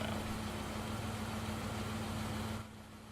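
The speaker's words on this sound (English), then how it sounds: "The sound of an engine brought me back to reality." A bus engine idles in the Everlasting Summer video game, a loud steady droning rumble with a faint tonal hum that drops abruptly to a quieter level near the end.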